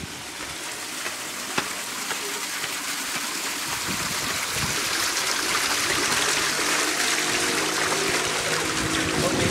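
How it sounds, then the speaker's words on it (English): A waterfall beside a small rooftop hotel swimming pool gives a steady, rushing splash of falling water that builds slightly, with faint talk underneath. "We have a beautiful waterfall here."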